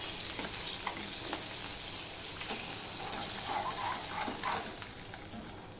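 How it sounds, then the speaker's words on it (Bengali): Bele fish frying one piece at a time in hot oil in a well-heated wok, giving a steady, loud, continuous sizzle with crackles and light stirring scrapes, close up and without talk. "এইভাবে আমি পুরো মাছটাই আমি ভেজে নিচ্ছি"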